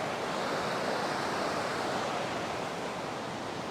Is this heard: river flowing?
yes